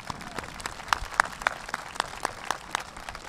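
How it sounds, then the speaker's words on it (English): Graduation audience at Oakridge High School clapping after staff and a guest speaker are introduced, sparse, distinct claps with a few sharper, louder ones standing out against a quieter background. "Let's give them all a big round of applause."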